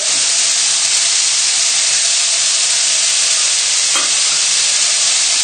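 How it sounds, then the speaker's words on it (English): A knob of butter sizzling with bacon in a hot pan, a loud, dense, steady hiss that holds evenly throughout without a break, one brief clink near the end and no talking. "So I'm going to add in my knob of butter."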